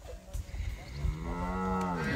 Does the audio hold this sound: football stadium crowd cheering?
no